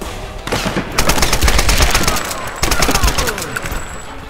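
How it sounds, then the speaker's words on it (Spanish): Rapid automatic gunfire rattles in dense bursts in the Tomb Raider video game, loud and continuous with a brief break midway, and a voice is faintly present underneath. "Vale, hay que disparar a ráfagas."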